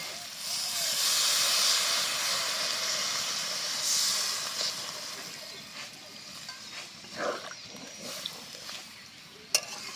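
Water poured into a hot pan of spiced egg and soybean curry sends up a broad, steady hiss of steam that gradually tapers off, with faint scrapes and clinks from the pan near the end and no talking.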